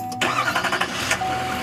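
A Chevy Silverado 3500 heavy-duty truck engine cranks briefly and catches, then settles into a steady idle with a faint whine.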